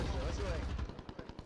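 Gunfire in the Call of Duty video game, a run of sharp shots at a steady rhythm in the second half, following a stretch of talk and game noise.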